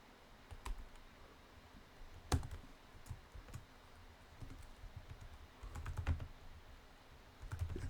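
Keystrokes on a computer keyboard while entering a PowerShell command, a sparse run of soft clicks with short bursts and pauses, close and quiet with no voices.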